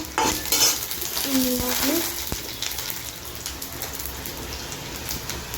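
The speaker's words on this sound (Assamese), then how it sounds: "ঢেকীয়া শাক ভাজিম," Dhekia fern greens fry and get stirred in a pan, a steady close sizzle with scraping stir strokes and a few clinks early on, continuing throughout with no one speaking.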